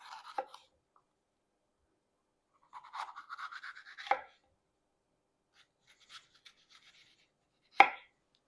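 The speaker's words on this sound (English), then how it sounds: "Now you're going to want to cut up red pepper into thin strips." A knife cuts red pepper into thin strips on a board, producing quiet scattered bursts of quick slicing taps separated by silent gaps, ending with one sharper knock.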